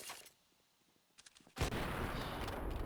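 A single loud, booming AWP sniper rifle shot in Counter-Strike on Inferno, preceded by quieter clicks and small game sounds, then a sustained roaring tail.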